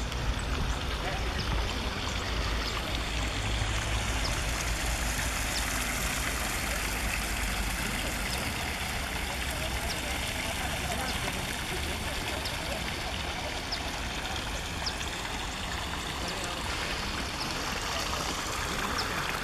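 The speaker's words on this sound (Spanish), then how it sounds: "Sonido de agua." A stream flows among trees on a university campus in Cota Cota, giving a steady, continuous rush of running water that stays even throughout, with a voice faintly present in the background.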